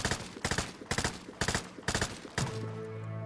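M249 machine gun fire in a video game: five short, sharp bursts of rapid shots in a steady rhythm, close and loud, followed by a ringing tail as the firing stops.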